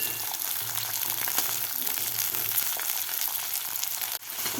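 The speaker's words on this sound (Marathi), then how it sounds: "फुल गॅसवर तळून घ्यायचे आहे थोडीशी सॉफ्ट होईपर्यंत" Cluster beans (gawar) frying in hot oil over full flame, a loud, dense, steady sizzle heard close up without any talk, cut by a brief dip near the end.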